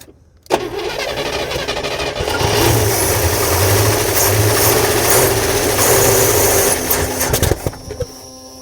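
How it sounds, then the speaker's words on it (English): An International Scout engine cranks and fires right up after a brief silence, then runs with a loud, rough idle and a couple of revs before cutting off near the end. "She runs, and it just fired right up."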